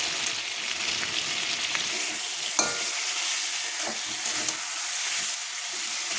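Fried potatoes stirred with biryani masala in a pan: a continuous close sizzle with occasional clinks and scrapes of a spatula against the pan, and no voices.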